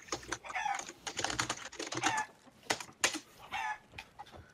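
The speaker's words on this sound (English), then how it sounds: "All right, grab the chickens." Chickens cluck in the pirate video game Sea of Thieves, a busy run of quick clucks and squawks close by, mixed with clicky keyboard-like tapping.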